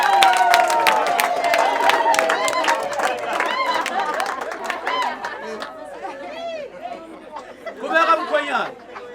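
Guests at a traditional wedding cheer and applaud, with a busy mix of excited voices, rising ululating calls and scattered clapping that swell again near the end, all close and lively.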